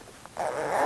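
A zipper on a leather upholstery cushion is drawn closed in one short, close rasping pull, preceded by a faint tick as the two halves are joined.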